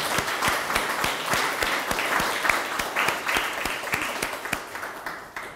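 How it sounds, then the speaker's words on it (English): An audience applauds a steering committee, a steady dense round of clapping from a room full of people that holds for several seconds and tapers slightly at the end. "So big round of applause."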